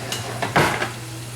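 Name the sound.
stirring ox heart stew in a pot with cooking spoon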